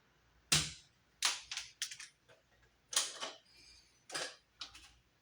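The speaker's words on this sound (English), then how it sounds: "And I'll strip it. Okay, so we'll cut this shorter here." Electrical wire is cut and stripped in a commercial hallway, giving a string of sharp, close snips and clicks in irregular bursts with quiet gaps between.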